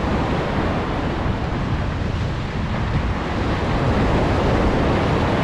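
Ocean surf breaking along a shore in Japan during a fishing outing: a loud, continuous roar of waves with wind buffeting the microphone, steady throughout with no voices.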